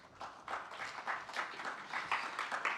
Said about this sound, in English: Please join him with welcome in a round of applause.